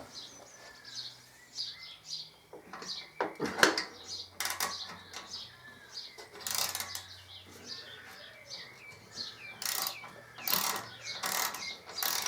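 Torque wrench on a 2005 Harley-Davidson Electra Glide swingarm during a bearing change, giving sharp mechanical clicks and ratcheting bursts with loud metallic clacks scattered across a quiet workshop.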